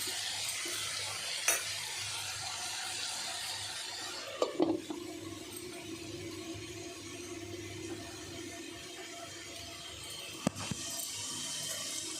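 Birakaya curry (ridge gourd) cooking in a pan, giving off a steady, soft sizzle and bubbling with a few sharp stirring clinks and scrapes, close and fairly quiet, with no talking.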